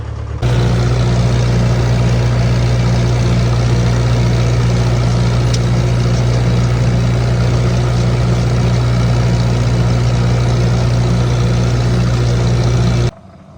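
A tractor engine rumbles loudly at a constant idle for several seconds while warming up, deep and continuous, then cuts off abruptly near the end.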